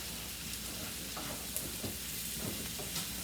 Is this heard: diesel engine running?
no